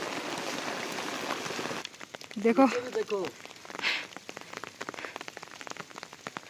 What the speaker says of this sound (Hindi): जबरदस्त बारिश आ रही है तुंगनाथ के वापस आते हुए।